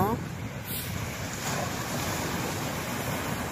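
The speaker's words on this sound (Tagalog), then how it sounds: "nakadaong lahat yung mga barko dahil maalon guys" Rough sea at a port with ships docked, a continuous broad roar of surf and wind noise buffeting the microphone, steady throughout, with no clear talk.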